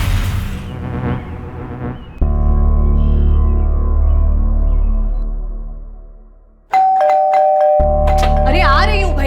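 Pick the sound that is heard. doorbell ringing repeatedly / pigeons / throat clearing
doorbell ringing repeatedly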